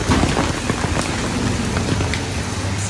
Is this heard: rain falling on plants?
yes